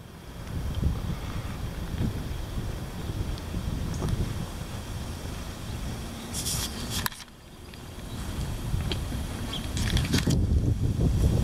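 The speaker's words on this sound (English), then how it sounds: "Here it is, the wind." Heavy wind blows in steady low rushing gusts across the microphone, with a brief lull midway before building again, loud and continuous with no talking.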